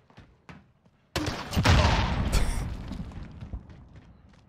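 A grenade launcher firing in the Warzone video game, a sudden heavy blast with a rolling, roaring explosion that swells and slowly decays, preceded by a few faint clicks and soft thumps.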